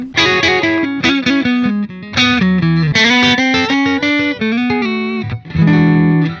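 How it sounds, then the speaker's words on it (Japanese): A distorted electric guitar played through an amp simulator plugin with a distortion pedal switched on plays a choppy riff of heavy chords and notes, loud and saturated with effects. "ちょっとオンにするとエフェクターでね歪ます"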